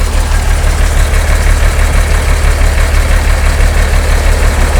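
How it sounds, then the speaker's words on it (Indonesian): A Mercedes-Benz OH 1626 chassis bus engine idles smoothly and steadily, a deep, even low-frequency rumble with a faint rhythmic vibration, holding constant throughout with no talk over it. "suaranya Mercy-nya masih halus loh teman-teman"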